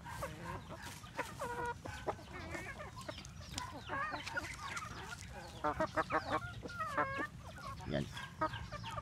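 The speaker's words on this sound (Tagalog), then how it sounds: "So itong mga manok kasi natin" A flock of native chickens clucks continuously at close range, with overlapping calls and busy farmyard chatter throughout.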